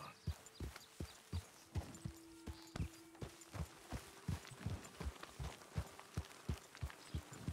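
Horse hooves clip-clopping in the Red Dead Redemption 2 video game, a steady rhythmic gait of close, fairly loud hoofbeats running throughout with a faint tonal hum beneath.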